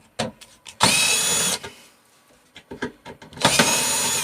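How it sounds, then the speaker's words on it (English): A cordless power tool buzzes in several short and longer bursts as screws are backed out of the underside of a microwave oven, with clicks and handling knocks between runs, close and fairly loud. "What I want to do is take all the screws off underneath."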